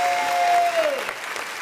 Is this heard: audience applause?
yes